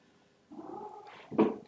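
A pet cat in a home office makes a single close, drawn-out meow-like call lasting about a second, followed by a louder, sharper vocal burst near the end, with no people talking.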